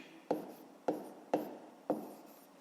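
Pen strokes writing down the answer to a fifth-grade multiplication exercise, four evenly spaced sharp scratchy taps, close and quiet, with no talk.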